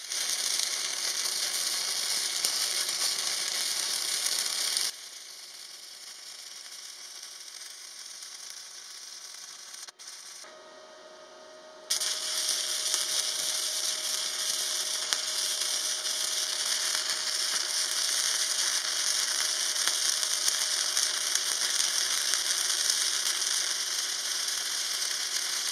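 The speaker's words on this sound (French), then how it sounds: "Sur tôle de 8 mm maintenant, en 2 passes et avec le fil fourré de 1 mm fourni avec le poste" Flux-cored wire welding with 1 mm wire on 8 mm steel plate using a Parkside PMSG 200 A2 multi-process welder: a steady, close crackling sizzle that drops away briefly midway before resuming loud and continuous, with no talk.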